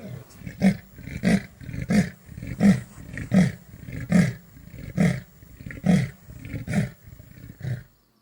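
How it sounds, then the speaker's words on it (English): A wild leopard in the Sabi Sands on safari gives its rasping, sawing roar: about eleven deep, rhythmic grunting strokes, loud and close, with no other voices. "As it paused, we heard it roar."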